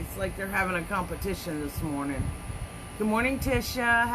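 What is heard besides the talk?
No everyday noise stands out behind the speech.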